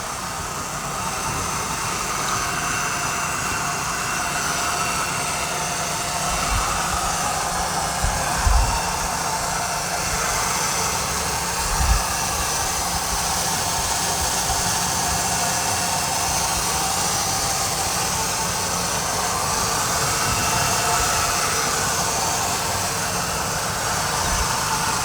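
A 2007 Ford Taurus engine idles while still cold, a steady broadband hum and whir close to the microphone, unchanging for the whole stretch apart from a couple of faint knocks, with no talking.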